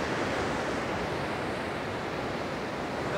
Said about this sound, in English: So we've got some proper waves coming in here now.